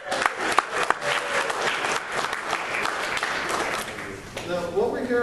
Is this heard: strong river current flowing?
no